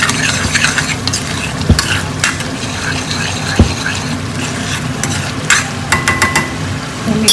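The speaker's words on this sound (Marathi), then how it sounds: "आता मी मिक्स करून घेते व्यवस्थित." Spiced food is stirred in a hot frying pan, sizzling steadily while a spoon scrapes and clinks against the pan in irregular strokes, close and fairly loud.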